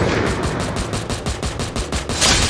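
Rapid automatic gunfire in the shooter game Free Fire, a fast, evenly spaced burst of loud shots that continues without a break.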